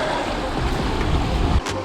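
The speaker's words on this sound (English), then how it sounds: "Like water rapids here." Rapids rush along a flooded river, a loud, steady broadband roar of churning water close by with a brief splash near the end, no voices.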